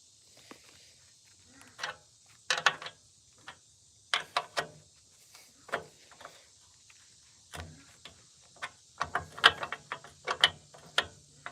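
A wrench works a bolt on a sickle bar mower, giving scattered clicking, ratcheting metal taps in irregular bursts, close but fairly quiet against a faint background hum, with no talking.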